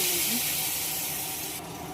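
Leafy greens dropped into a hot pot with bay leaves, turmeric and ginger paste give off a loud, sustained hiss and sizzle that slowly eases.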